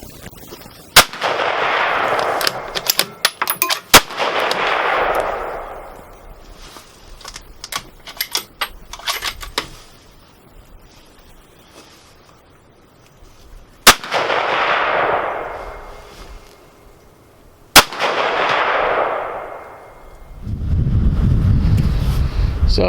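Loud .308 rifle shots from a Savage Model 10 at an outdoor range, aimed at a bowling ball target; four sharp cracks, each followed by a long rolling echo, with wind rumbling across the microphone between shots.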